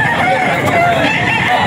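A Black Spartan gamecock rooster on a farm crows nearby in a loud, drawn-out call over a busy background of other birds and general hubbub.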